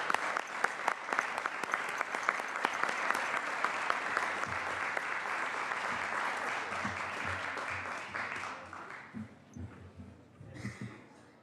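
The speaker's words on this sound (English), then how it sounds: "Please give them a warm round of applause." Applause rings through the California State Senate chamber for visiting members of the Alpha Kappa Alpha sorority, dense steady clapping from a large group that thins and tapers into scattered claps near the end.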